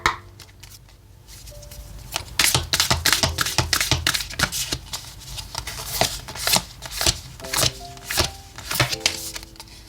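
Oracle cards being shuffled by hand during a weekly tarot reading, a run of crisp riffling and flicking bursts, close and fairly loud, with faint background music and no talk.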